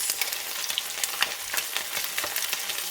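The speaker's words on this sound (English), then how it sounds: "So we're frying this chicken wings in a medium heat," Chicken wings fry in oil over medium heat, sizzling and crackling steadily, a close, bright hiss with scattered pops throughout.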